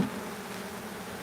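Upset honey bees buzzing around an opened active beehive during maintenance, a dense continuous hum of many insects close by.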